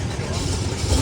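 A Ford Mustang with a hole in its exhaust pipe rumbles at idle just after starting, a steady low, rough engine drone that swells slightly toward the end.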